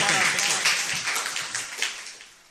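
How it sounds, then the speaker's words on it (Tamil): A studio audience claps for a contestant on a Sri Lankan radio quiz show: a short burst of applause, fairly loud at first, then fading toward the end. "அவருக்கு எங்கே கரகோஷ பாராட்டுகள்"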